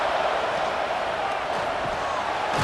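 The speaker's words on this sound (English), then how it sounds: "Listen to the crowd energy here in the early going." Dense, steady crowd roar filling a stadium at a football game, broad and continuous with a faint rise near the end, no clear single shouts standing out.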